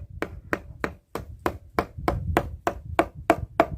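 A long screwdriver taps on rotted wood while checking for decay: about a dozen evenly spaced, close, sharp knocks follow one another at a steady rhythm, with no one talking.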